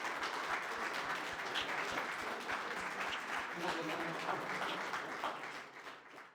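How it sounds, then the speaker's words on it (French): A crowd at a company event for partner agencies claps continuously, a dense, steady wash of applause with a few voices mixed in, tapering off in the final second. "je vais juste vous demander de vous applaudir les uns et les autres"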